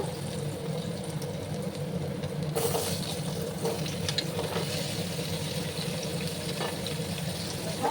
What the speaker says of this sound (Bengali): আলু আর কুমড়ো একসাথে একটু ভাজা ভাজা করে নেবো